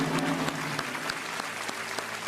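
Steady studio audience applause during a Kaun Banega Crorepati quiz show episode, a dense continuous wash of many hands clapping at even loudness throughout, with no talking.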